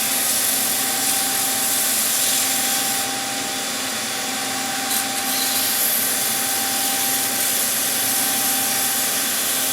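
Sandpaper pressed against a spinning natural-edge orange box wood bowl on a lathe, a loud continuous rushing whir with steady grit hiss and no pauses, close up with no talking.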